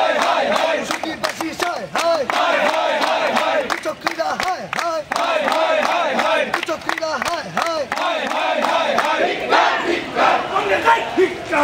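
A crowd at a political rally chants slogans in loud, rhythmic unison, voices rising and falling in repeated call-and-response waves, close and continuous throughout.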